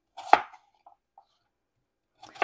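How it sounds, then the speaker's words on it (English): Knife chopping apples into small pieces for an apple cake: a few sharp cuts near the start, a couple of faint taps, then another short burst of chops at the end, close and clear with no talking. "So you don't want to chop these little apple bits up too fine."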